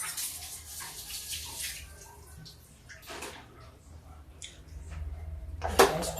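Water poured from a plate into simmering kadhi gravy in a home kitchen: a faint, continuous splashing pour with soft clinks at the end.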